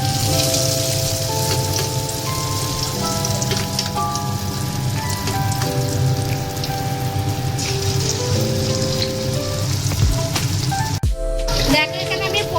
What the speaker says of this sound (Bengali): দেখো এখানে আমি পকোড়াগুলো করে নিচ্ছি চিলি চিকেনের জন্য